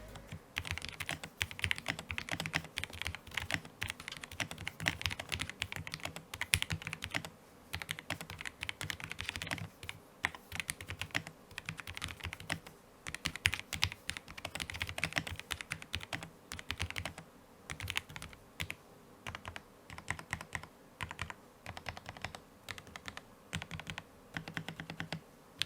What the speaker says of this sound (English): I left the typing test till the very end, purely for the sound alone